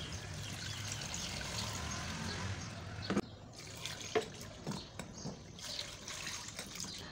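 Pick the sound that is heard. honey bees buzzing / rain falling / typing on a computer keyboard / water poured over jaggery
water poured over jaggery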